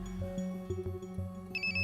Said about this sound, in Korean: 아빠 친구가 전화 왔어요.